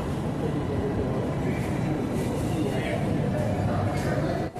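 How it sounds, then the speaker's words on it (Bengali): A Yellow Line metro train pulls into Jessore Road station in Kolkata, giving a steady, loud rumble and hiss of wheels and motors that stays even throughout. "আমাদের এই মুহূর্তে ইয়েলো লাইন মেট্রো পৌঁছে গেল দমদম ক্যান্টনমেন্টের পরবর্তী stoppage Jessore road metro station"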